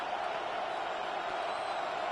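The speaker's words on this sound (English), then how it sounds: "This crowd turning up the decibel level" Crowd noise at an American football game in a stadium, a broad, steady roar of cheering that sounds distant and fairly faint and holds constant throughout.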